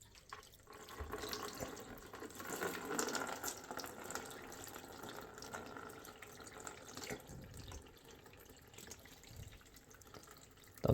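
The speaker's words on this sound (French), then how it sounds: "je prends mon verre doseur avec de l'eau chaude et de l'adoucissant. Et puis je verse ici," Hot water mixed with softener is poured from a measuring jug into an old radiator, giving a faint, steady trickling and gurgling flow that lasts several seconds, with no voices.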